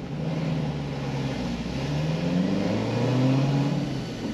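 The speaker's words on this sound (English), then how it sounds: "I actually think I can rev this thing a little higher and it might make more." An LT1 Camaro engine on a dyno, a steady, mid-pitched drone that climbs gradually in pitch and loudness as the revs rise, heard alone at moderate distance.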